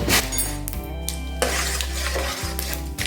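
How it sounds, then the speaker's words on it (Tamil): Mustard seeds crackle and sputter in hot sesame oil in a pan, a dense, continuous busy sizzle with sharp pops throughout, close and fairly loud, with no voices. "இப்போ எண்ணெய் காஞ்சது கொஞ்சம் போல் கடுகு சேர்த்துக்கோங்க."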